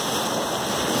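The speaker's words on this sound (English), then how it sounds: "Some big waves here." Big ocean waves make a brief, loud, steady wash of surf at the shore, blended with gusty wind buffeting the microphone.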